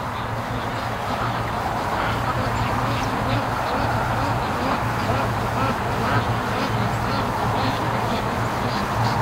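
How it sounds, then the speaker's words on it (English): Free-range ducks coming down a creek toward a lake quack constantly in a noisy, enthusiastic chorus, close by and loud throughout. "That's some serious enthusiastic ducks coming to the lake."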